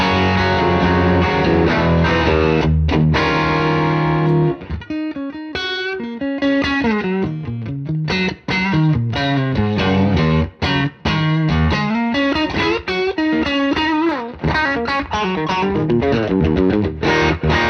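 A distorted electric guitar through a tube amplifier, a double treble booster in front of a Super Reverb, plays loud chords and then sustained, singing melodic lines with a thick, overdriven tone and some reverb.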